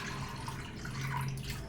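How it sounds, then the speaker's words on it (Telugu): Water is poured into a container of soaked chana dal (split Bengal gram) in a home kitchen, a steady wet rushing and gurgling at moderate level with no talking. "ఇది దీంట్లోనూ కొద్దిగా వాటర్ పోసుకుని"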